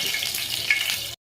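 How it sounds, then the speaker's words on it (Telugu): Oil sizzles hard in a pan while a tempering for flaxseed chutney is made, a short loud hiss close up that cuts off abruptly. "సో తాలింపు పెట్టుకుందాం."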